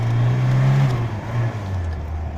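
Tofaş Şahin car driving along and shifting into second gear without using the clutch, a steady low engine drone that dips and changes pitch midway as the gear changes, close and continuous.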